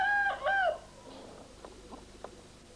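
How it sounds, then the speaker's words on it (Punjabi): An Aseel rooster gives a loud, close crow-like call at the start, followed by a few quieter, scattered clucks. "ਚੱਲ ਇਹ ਜਿਹੜਾ ਮੁਰਗਾ ਤੱਕਣੇ ਪਈ ਇਸ ਦਾ ਨਾਂ ਸ਼ਿਕਰਾ ਆ।"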